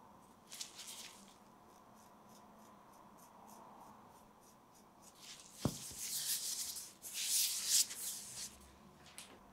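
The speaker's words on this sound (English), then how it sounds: "I then soften the heels with a foot rasp." A disposable foot rasp files the heels of feet during a pedicure, giving soft, close scratchy rubbing strokes that grow louder and more rapid toward the end, with a single sharp tap in the middle.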